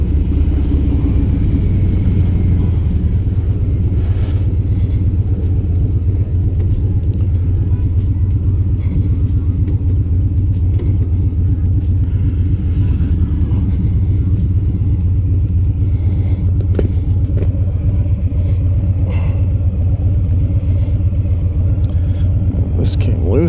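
A 2022 Harley-Davidson Street Bob 114 motorcycle cruises steadily along a road, its V-twin engine and wind rumbling in a constant low drone, with a rider speaking intermittently over the noise.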